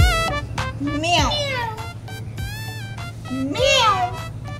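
A human voice imitates a cat's meow in drawn-out, rising and falling calls, close and clear, with a second meow-like cry following after a pause over a low steady hum.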